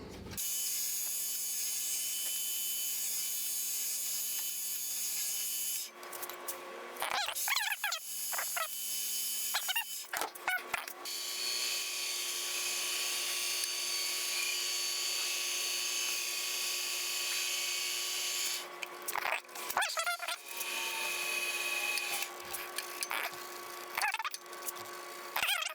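A wooden ring turned down to size on a lathe gives a steady, continuous high whirring hiss of cutting that runs nearly throughout, with a few short pauses and tool repositionings in between.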